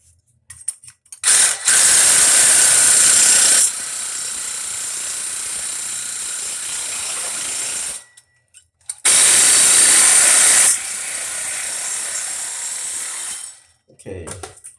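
PVC pipe for a P-trap is cut with a power saw in two long, loud, steady buzzing passes separated by a short pause.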